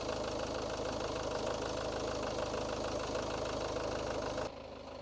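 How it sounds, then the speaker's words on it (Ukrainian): A 2010 Mitsubishi Outlander 2.2 diesel engine idles steadily with a dense, rattling hum close by, then cuts to a quieter drone near the end. "Двигун працює справно, немає ніяких зайвих шумів"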